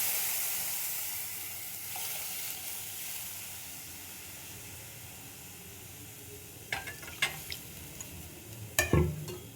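Boiled milk poured into pan-fried vermicelli for a sweet pudding, with a soft steady hiss and faint sizzle, then a few sharp scraping stirs of a spoon against the pan near the end.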